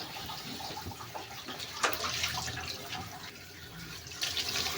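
Water runs from a tap while a small pan that held leftover breading mix is rinsed, a soft splashing stream with light clinks and swishes close by.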